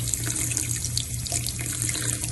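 Steady running water pours from a sink faucet over a Chanel bag's leather strap treated with Carbon Pro waterproofing spray, a continuous close splashing stream throughout with no talk.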